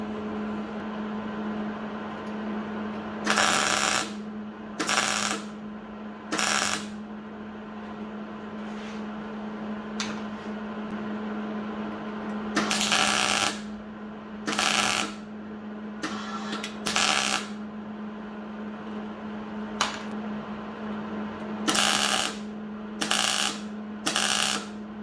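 A rust patch panel is welded onto a car body in repeated short bursts. The welder crackles and buzzes loudly, separated by pauses filled with a steady electrical hum.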